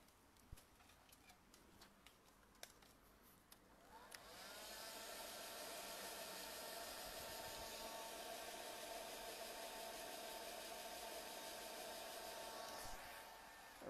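A hair dryer switches on after a few quiet clicks and then blows a steady, loud whooshing hum for about ten seconds while paint dries on a craft switch plate.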